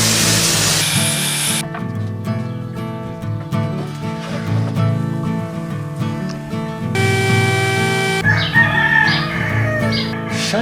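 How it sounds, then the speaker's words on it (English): Roosters crow repeatedly nearby, with drawn-out harmonic calls overlapping one another over a steady hiss and some mechanical background noise. "shut the heck up, you stinking roosters"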